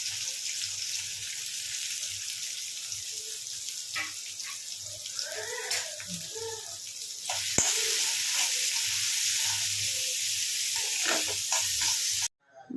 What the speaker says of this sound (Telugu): కట్ చేసిన ఉల్లిపాయలు వేసుకుంటున్నాను.